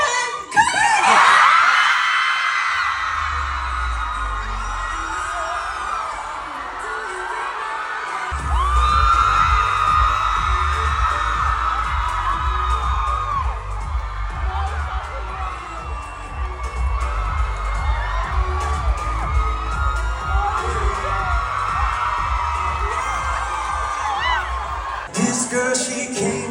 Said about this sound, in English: please, we need your loudest screams